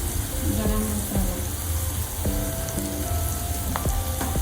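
Ground spices, including coriander, turmeric and chili powders with garam masala, fry in a pan for a ridge gourd curry, giving a dense close sizzle with clinks and scrapes of stirring.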